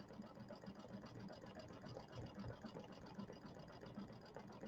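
An embroidery machine sewing satin stitching on a table topper, a faint, fast, even mechanical chatter running steadily throughout.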